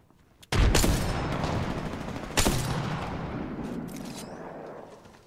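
Gunfire in the Apex Legends battle royale game, two loud bursts of rapid shots, each followed by a decaying, echoing rumble, with fainter pops trailing off.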